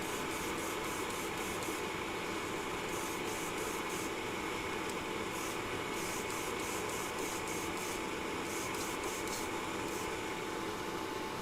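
An airbrush sprays Vallejo color shift paint in a light coat, giving a steady, close hiss throughout, with faint intermittent ticking above it.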